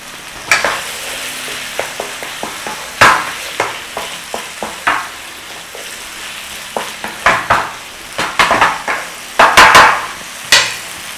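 Tomato paste frying in a pan for chicken jalfrezi, a steady sizzle broken by repeated scraping and stirring knocks of a utensil against the pan, close up, no talking.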